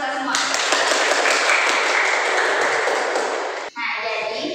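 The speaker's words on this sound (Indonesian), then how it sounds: "Beri tepuk tangan untuk kita semua." Classroom applause during a microteaching lesson on cereal grains, a steady wash of many hands clapping together for several seconds, breaking off briefly near the end before resuming.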